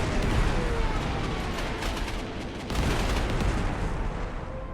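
Bombing attack in the Panzer Corps 1940 war video game: a dense, continuous roar of artillery-like blasts and rumbling explosions lasting several seconds, steady and loud, with no talk over it.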